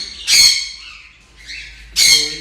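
Two loud, harsh bird squawks separated by a short pause, with a softer call in between, close up and with no talking.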